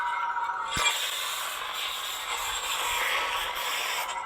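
A lightsaber lockup effect: a sustained, crackling electric buzz with a sharp burst near the start, sizzling continuously like an energy blade locked against another.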